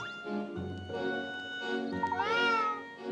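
A cat meows several times in close succession in the video game Layton's Mystery Journey, close and clear, its drawn-out calls rising and falling in pitch over a steady background.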